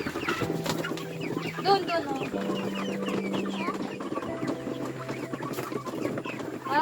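Free-range chickens cluck and chatter close by while being fed, with a steady low hum underneath and occasional brief speech.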